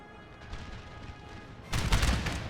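Cannon artillery fire in the Napoleon Total War game: a low rumbling battle bed, then a sudden loud burst of cannon shots and crackling volleys near the end.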